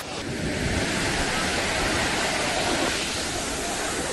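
Heavy rain and rushing water at Sundha Mata in Rajasthan make a dense, steady roar of broadband noise that stays loud and unbroken throughout, with no voices.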